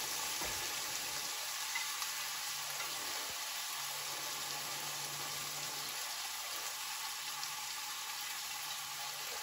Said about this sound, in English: Now, listen to that sizzle.